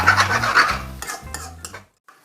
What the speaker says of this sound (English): you go round and round with the spoon, meanwhile you go up and down with the pan